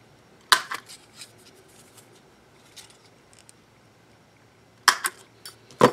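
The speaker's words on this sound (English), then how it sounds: "Then what you would do is punch the holes where you see the little rounded area of the mushroom." A paper hole punch cuts mushroom-shaped disc-binding holes in paper for a micro-size keepsake notebook, giving a few sharp, close crunching snaps separated by quiet handling rustles.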